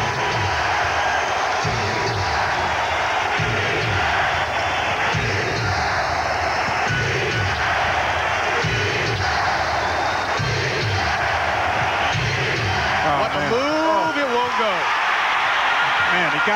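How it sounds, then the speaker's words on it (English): A basketball arena crowd at a 1992 playoff game between the Trail Blazers and Suns in Phoenix, a dense continuous roar of cheering under steady commentary. "here comes the crowd that we talked about"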